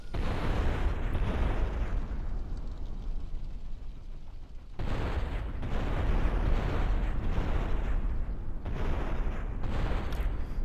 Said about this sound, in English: Slow motion explosions are always cute.